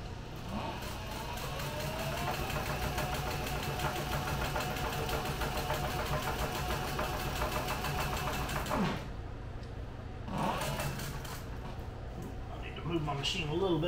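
Sewing machine stitching the skived, thinned area of a leather two-tone tote, a steady mechanical whir running throughout with brief pauses near the end.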